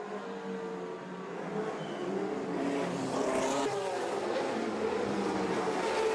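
Historic race cars, including a BRM, roar along the circuit in a continuous, fairly distant engine drone that swells and grows louder toward the end, with rising and falling engine notes as cars pass.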